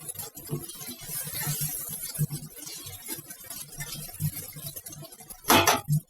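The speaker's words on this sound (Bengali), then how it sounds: "ভালো করে নেড়ে চেড়ে দিচ্ছি" Potatoes with rock salt being stirred in a frying pan for a sabudana dish: soft, uneven scraping and shuffling with a brief louder clatter near the end, steady and close.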